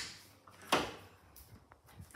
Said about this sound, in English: So, you can open the door now.